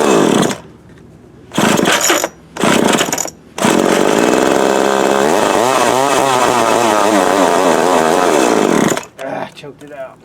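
Montgomery Ward TMC 24052B chainsaw with a possible fuel filter or carburetor fault, its two-stroke engine sputtering in short loud bursts, then catching and running steadily with revving before cutting out.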